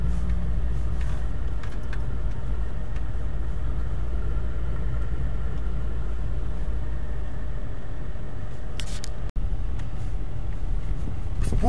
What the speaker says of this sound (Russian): Еду на первой передаче